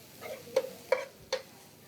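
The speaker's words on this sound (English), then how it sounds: "My carrots, we're going to give that a slight stir." Carrots stirred in a pan with butter: three soft scraping strokes at a steady pace over a faint background sizzle, close and quiet.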